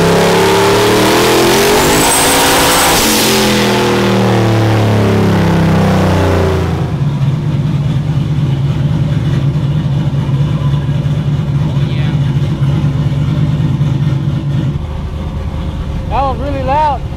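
The engine of a 1200 horsepower Chevrolet Silverado SS revs hard on a dyno in one very loud, roaring pull, then drops to a lower, steady rumble with faint voices in the background.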